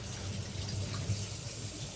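Water runs from a tap in a steady, close, moderately loud stream, an even rushing hiss with no pauses and no voices.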